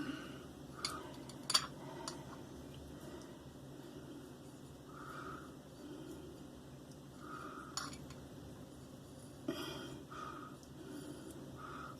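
A metal spoon clinks against a dish a few times while shaving soap is being prepared, sharp brief taps scattered across a quiet, low room hum with soft breathing.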